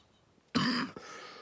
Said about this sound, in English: Sorry, I have a little bit of a cough.